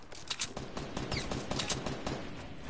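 Rapid bursts of gunfire in the video game Fortnite, a quick string of close, sharp shots in steady succession, fairly loud, with no talking over them.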